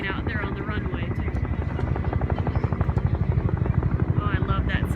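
Four helicopters at the Vectren Dayton Air Show pass with a loud, steady rotor chop that grows stronger and more pulsing, with some voices heard under it.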